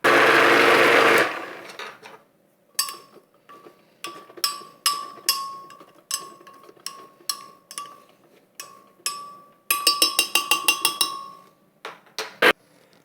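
A homemade peanut butter blender motor strains against thick peanut paste. A loud continuous whir is followed by a long series of short, sharp, clattering pulses with brief gaps between them.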